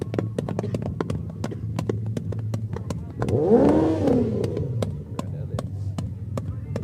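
A motorcycle pulls in at a high school football pregame show, its engine swelling to a brief roar near the middle and then fading, over a steady ticking and humming background.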